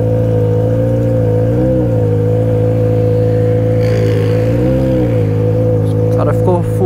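A Yamaha XJ6 motorcycle engine rumbles steadily at idle through its exhaust, with a couple of brief rev swells, loud and close, then some clatter near the end.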